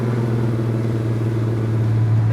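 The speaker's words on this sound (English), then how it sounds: "This car drives really good." A classic million-dollar supercar, driven with the top down, holds a steady low engine drone and rumble from inside while cruising, with no voices over it.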